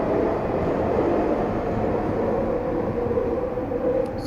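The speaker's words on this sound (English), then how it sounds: "2 trains going by." Trains rolling past with a steady, continuous rumble and rail noise that holds an even loudness the whole way through, fairly close and with no voices over it.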